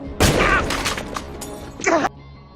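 In a film, a burst of loud, sharp gunshots rings out in quick succession, followed by a few scattered bangs and a final heavy blast before sudden quiet.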